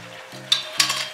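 Tomato sauce poured into a hot frying pan, giving a soft steady sizzle with two sharper bursts of hissing as it hits the pan, close and alone without talk.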